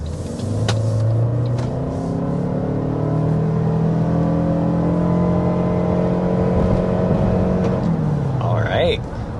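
A 2025 Toyota Sienna Platinum hybrid minivan accelerating hard to 60 mph, a steady engine drone rising in pitch for most of the run and then easing off, heard from inside the cabin.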